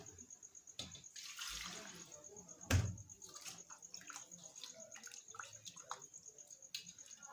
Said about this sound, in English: I'm going to wash this pork.